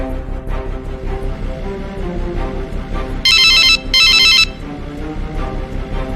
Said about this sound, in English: your phone has been ringing